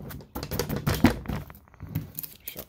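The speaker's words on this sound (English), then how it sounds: "Let me shuffle up" Magic: The Gathering cards being shuffled during deck practice, a close run of quick riffling and slapping card bursts, uneven and crisp, with short pauses between.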